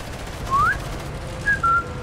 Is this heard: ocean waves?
no